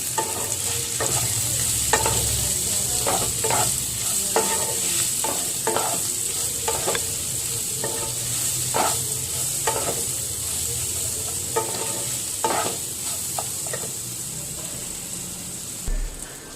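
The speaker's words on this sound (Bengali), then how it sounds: "রান্নার মতো লবণ দিয়ে দিলাম, দিয়ে এখন একটু আমি ভালো করে নাড়াচাড়া করবো।" Lentils with salt and cumin powder are stirred in a frying pan: steady sizzling runs throughout under rhythmic scraping strokes of the spoon, close and moderately quiet, with no talking.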